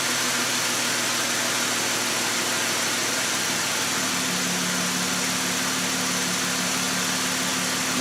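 Car engine idling steadily with a misfiring cylinder, a continuous low droning hum inside a broad noisy wash, with a slightly rougher, shifting tone partway through.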